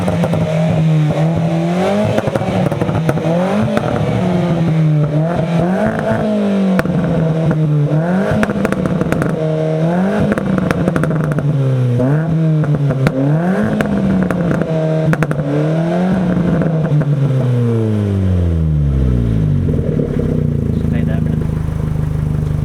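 A Ford Fiesta Zetec S Mk7 engine is revved repeatedly in rising and falling sweeps, with crackling pops and bangs on the overrun, then settles down to idle. The sound is loud and close, with occasional voices nearby.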